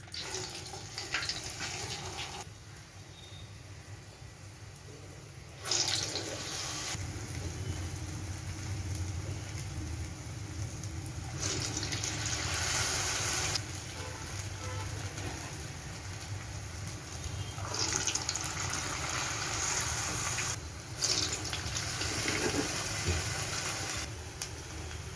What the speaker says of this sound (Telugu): ఆయిల్ హీట్ అయిన తర్వాత మనం ముందుగా కలిపి పెట్టుకున్న పిండిని గారెల్లా ఒత్తుకుని ఆయిల్లో వేసుకోవాలి